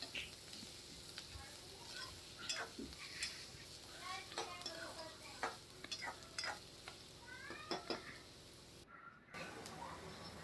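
Garlic and onion frying in a pan while being stirred, with a steady sizzle and scattered scraping and clinking of the utensil, fairly faint, over talk.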